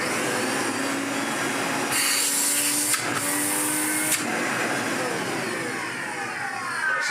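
A loud 1970s Hoover 427 upright vacuum cleaner, restored, runs steadily up close, its motor whining with shifting pitch as it is pushed and pulled, no voices.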